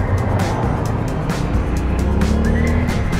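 Yamaha Tenere 700 adventure motorcycles and other adventure bikes setting off on a ride in Mexico, a steady loud engine drone and road rush filling the whole stretch with brief rising surges, no talk.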